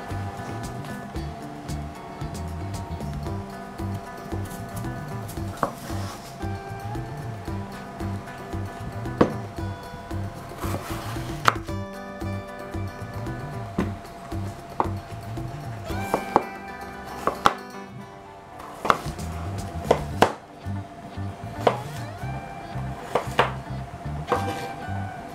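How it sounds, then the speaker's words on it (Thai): A knife chops potatoes on a cutting board while fried mashed potatoes are prepared in a home kitchen, a steady run of crisp, close knocks over a continuous background bed, with a brief lull partway through. "เมื่อหั่นมันฝรั่งแล้วนะคะ"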